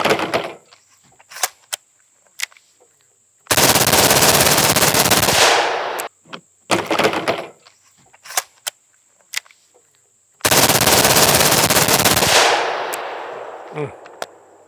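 An HK briefcase gun fires two long, loud, fully automatic bursts of a couple of seconds each, with quieter mechanical clicks and handling noises in the pauses between and after.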